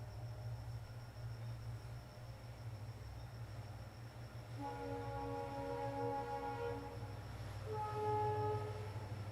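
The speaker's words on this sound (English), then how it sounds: "I also apologize for the train." A train passes outside during a live stream, a steady low rumble joined midway by sustained tonal horn or wheel-squeal notes that swell and fade twice, faint and distant with no voices.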